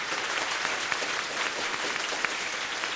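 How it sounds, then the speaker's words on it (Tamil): Dense, even applause from a large audience after an opening song at a stage event, steady crowd clapping heard from a distance with no voices on top. "எங்கே ஒலிக்கட்டும் உங்கள் கரகோஷம்."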